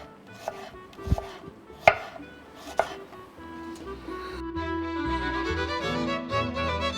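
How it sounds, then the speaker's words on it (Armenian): A knife chops onion into half-moon slices on a board for an Armenian dish, with a few sharp, separate thuds at first. Cooking noise then builds into a steady, fuller clatter. "Ես այդ ընթացքում կտրատում եմ սոխ"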